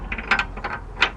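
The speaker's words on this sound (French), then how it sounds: "je suis en train de la serrer avec ma clé raccourcie" A shortened wrench tightening a nut on a power steering hose of a PT Cruiser, a few quick close metallic ratcheting clicks in short bursts, with no talking.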